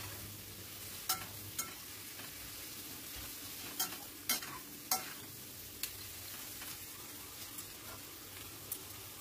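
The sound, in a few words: stirring potatoes and chopped onion frying in pan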